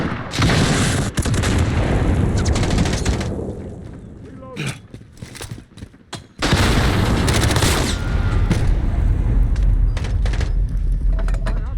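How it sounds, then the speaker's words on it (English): Heavy weapon fire in a shooter game, a rocket launcher and a shotgun, producing loud booming blasts and dense sustained explosive noise with a brief lull in the middle. "Fucking rocket launcher and a shotgun."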